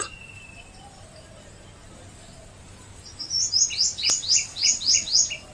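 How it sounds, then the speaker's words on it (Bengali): A purple sunbird calls in a quick run of sharp, high, repeated chirps that begin partway through, close and clear over a quiet outdoor background. "সানবার্ড তো ডাকছে আর নিজের ট্রেনিং করছে"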